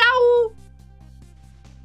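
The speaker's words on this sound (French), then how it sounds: "C'est un chat noir?" A black cat in the video game Ghost Trick gives a short, clear meow, followed by a quiet stretch of soft rhythmic ticking and the start of a second meow at the very end.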